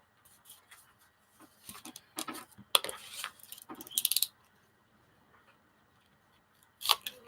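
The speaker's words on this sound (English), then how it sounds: "So I will cut that out" Scissors snip through cardboard in short bursts of crisp crunching cuts, close and fairly loud, separated by quiet pauses and ending with one more quick snip.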